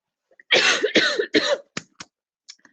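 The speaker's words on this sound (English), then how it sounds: "Sorry, I'm coughing." Three harsh coughs in a row, close and fairly loud, followed by a few short throat-clearing sounds and small breathy noises trailing off.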